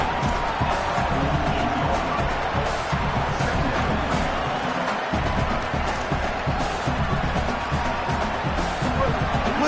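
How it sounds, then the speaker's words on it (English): A dense stadium crowd roars and cheers steadily in a college football video game, a continuous wash of noise under a commentator's voice. "Listen to the crowd energy here in the early going."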